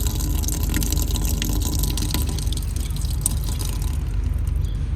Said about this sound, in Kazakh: Су ағызатын жер осындай қойып қойыпты. Ағар екен су.